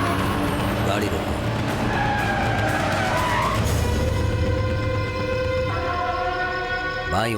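A car in a Hindi drama skids to a stop with a drawn-out screech of tires under a busy, loud mix of engine noise and sustained tonal sounds.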